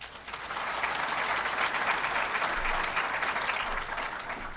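Sustained applause from an audience at a government budget address in Buffalo, a dense, steady clapping that swells quickly and holds for several seconds without speech.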